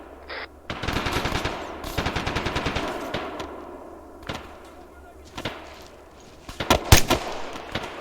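Rifle and machine gun fire in the video game Arma 3, with rapid bursts and sharp single shots close by, separated by quieter gaps and faint background talk.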